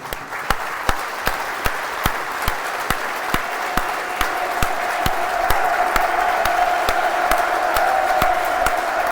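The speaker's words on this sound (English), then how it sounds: "we invite you to celebrate his life and achievements with a minute's applause" A football stadium crowd holds a minute's applause for Bobby Charlton at a Millwall versus Blackburn Rovers match, a broad, sustained roar of clapping and cheering with steady rhythmic claps punctuating it and no talk over it.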